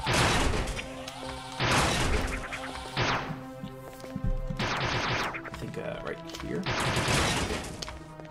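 Charge beam shots in the game AM2R fire in repeated bursts, each a loud blast with a crackling decay, arriving every second or so in an irregular rhythm.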